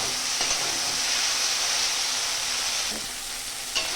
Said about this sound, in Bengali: ঝেঁকি শাক আলু দিয়ে ভাজা